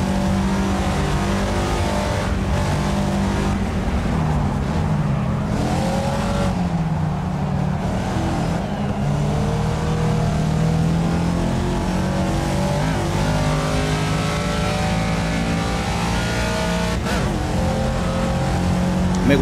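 Race car engine in a racing video game at Silverstone in the rain, droning loudly and continuously with rising and falling revs throughout, a steady in-car roar with no pauses.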